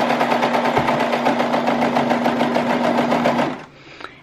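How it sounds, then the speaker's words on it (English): A sewing machine stitching a T-shirt neckband runs in a steady, fast whirring rattle for about three and a half seconds, then stops. "we're just going to want to sew all the way past here."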